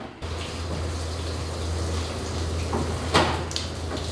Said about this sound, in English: we turn the water on.